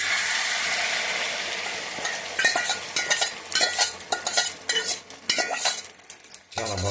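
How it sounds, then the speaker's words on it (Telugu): Egg omelette cooking in a pan: a steady sizzle at first, then busy scraping and stirring strokes against the pan, close and fairly loud. "ఆమ్లెట్ చాలా బాగా వస్తుంది, చాలా టేస్టీ కూడా ఉంటుంది"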